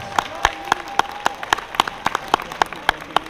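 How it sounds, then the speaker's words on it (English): At a convention's opening ceremony, crisp distinct claps ring out in a quick, fairly regular rhythm, close and prominent over a low steady background hum. "Big round of applause for the most important guest, you guys."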